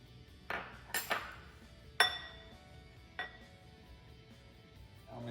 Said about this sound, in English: I'll mix it all up with a fork.